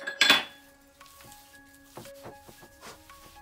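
Tomato pakora filling with coriander and green onion being mixed in a bowl: a sharp clink of a spoon against the dish at the start, then a few lighter taps and scrapes, close but quiet.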